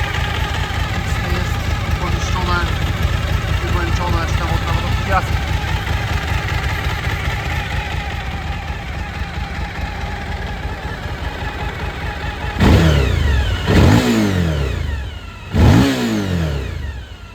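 A 2015 Suzuki DL 1000 V-Strom motorcycle engine idles with a steady, close low rumble, then gets three sharp throttle blips near the end, each rising and falling quickly.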